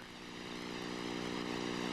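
A light training airplane's Lycoming piston engine and propeller run with a steady, harmonic-rich drone that swells gradually and holds loud and even.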